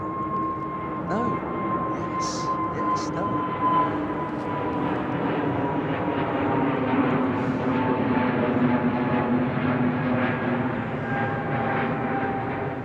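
A Qatar Airways Boeing 777 departs London Heathrow, its engines a steady roar heard from a distance with a clear whining tone, while people talk quietly nearby.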